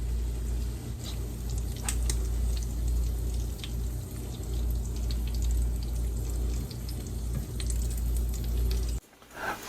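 Food sizzles and fries steadily in a pan during home cooking, a dense continuous crackle with scattered pops that runs for most of the stretch and then cuts off abruptly near the end.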